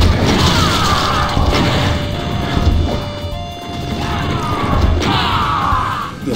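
Rocket launcher blasts and crashing impacts in the video game Doom, a dense, loud, continuous barrage of booms and metallic clatter with no pauses.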